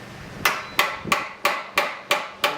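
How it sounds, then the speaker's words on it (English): A hammer bashes out a Toyota Supra's catalytic converter, seven sharp metallic strikes landing at a steady, roughly one-per-third-second rhythm, loud and close with no talking. "while Bangers was bashing out the cat"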